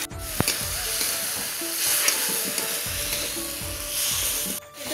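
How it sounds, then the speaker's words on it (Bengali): Potatoes stirred and frying in oil with a cooked-down spice paste for a vegetarian Bengali dish, giving a steady close sizzle with scraping stir strokes throughout and a brief pause near the end. "মশলাটা ভালো করে কষানো হয়ে গেছে, এটা তেল ছেড়ে দিচ্ছে, এখন আলুটা দিয়ে দিচ্ছি।"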